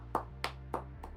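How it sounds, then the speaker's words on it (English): A few sparse hand claps, four distinct claps spaced evenly, fairly close and modest in level, with no talking. "Round of applause"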